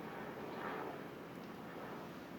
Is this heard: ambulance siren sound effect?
no